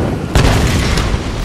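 In the video game Tomb Raider 2013, a grenade goes off as one heavy boom, followed by rumbling debris and another lighter thud, loud and close over continuous game noise.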